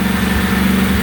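A Briggs & Stratton replacement engine, freshly installed on a tractor, runs steadily at a throttled-down idle, producing a loud, continuous low hum with an even, unbroken drone and no talk.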